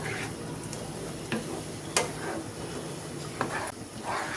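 Ginger garlic paste sautéing in a pan, with a continuous sizzle broken by a few sharp utensil scrapes and taps as it is stirred.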